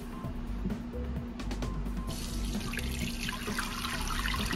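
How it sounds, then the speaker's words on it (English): Elderberries and water pour and trickle through a strainer in a kitchen, a steady close splashing flow with a low background hum and no clear talk. "So I'm gonna get the berries drained out of that"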